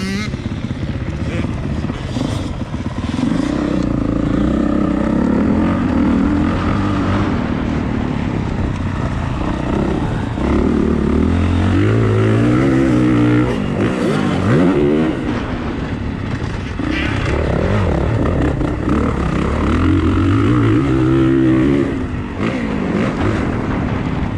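Motocross dirt bikes ride on a track: loud, close engine drone that rises and falls as the throttle opens and eases through corners, continuous throughout.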